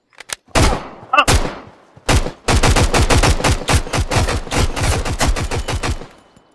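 Enemy gunfire in the survival shooter Road to Vostok: a few sharp single shots, then loud, sustained rapid bursts of automatic fire cracking close by for several seconds.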